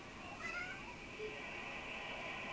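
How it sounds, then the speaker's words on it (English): House cat meowing softly indoors, a few faint, short calls over quiet room noise. "It's my cat."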